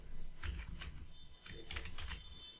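Quiet keystrokes on a computer keyboard while coding JavaScript, several soft taps in short irregular clusters, close and faint.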